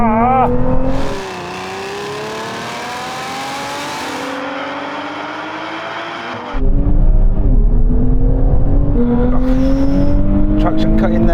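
Sports car in a drag race accelerating hard, engine note climbing in steps through rapid gear shifts with a brief drop in power between changes; loud, close, sustained revving with rising harmonic sweeps.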